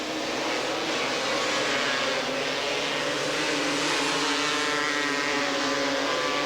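Three-wheeler ATVs race at the 1986 AATVA Grand National in Porterville, their two-stroke engines giving a loud, continuous buzzing roar at steady intensity with no speech heard.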